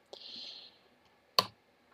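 A single computer keyboard keypress clicks sharply at close range during a command-line Linux install, preceded by a faint high whine and otherwise quiet.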